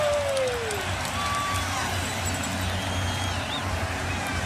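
Steady roaring crowd fills a college football stadium during an SMU Mustangs vs Penn State Nittany Lions playoff game, a loud, continuous wash of noise with scattered whoops and whistles before a false start.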